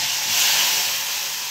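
Garlic hits hot oil already tempered with mustard seeds and asafoetida for a Gujarati potato curry, giving a loud, steady sizzling hiss that swells briefly and then holds, with no voices.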